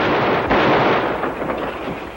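Tear gas shells fired by police through the back window of a building where a killer hides, in a 1954 television drama: a loud, dense, crackling blast of noise lasting about two seconds, with no voices.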